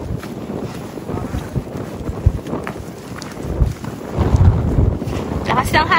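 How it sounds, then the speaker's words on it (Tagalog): Strong wind and rain roar across the microphone on a mountain hike, with rumbling gusts that swell toward the end, with a faint voice beneath. "Lakas ng hangin at saka lang ulan."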